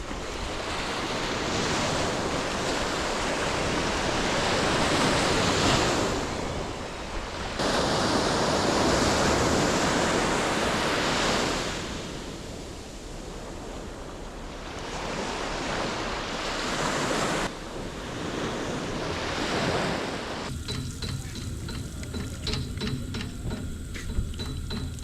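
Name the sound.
ocean waves on a beach in Gibraltar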